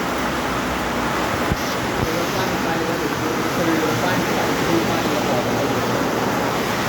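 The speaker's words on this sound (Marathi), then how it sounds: "पत्र्यात तर खतरनाक आवाजच यायला लागला परत वाढलाय पाऊस आता बघा" Heavy rain hammers a metal sheet roof over an office during a downpour, a dense, steady roar that stays loud and unbroken throughout, with a sharp knock near the start.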